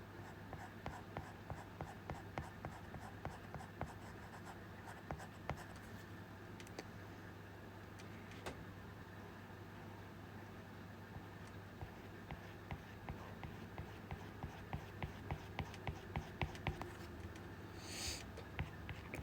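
Pencil sketching lines on paper, a quiet close scratching with repeated soft strokes in a steady rhythm that grows busier toward the end.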